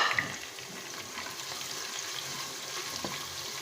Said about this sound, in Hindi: अब हम इसमें अपनी शिमला मिर्चें शामिल करेंगे और इनको भी सौते करेंगे